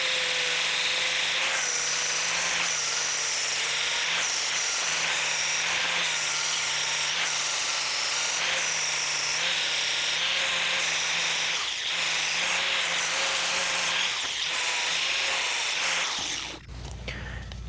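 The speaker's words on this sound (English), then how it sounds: "Take a grinder to plastic things" Angle grinder with a worn 120 grit flap disc sanding plastic on a box van, a loud, continuous high whine with a grinding rasp, held steady for many seconds before cutting off near the end.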